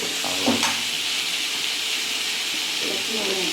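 Ground coriander, cumin and turmeric sizzle and fry in hot oil in a pan, a steady broadband hiss with a few scrapes of stirring and a brief voice in the background.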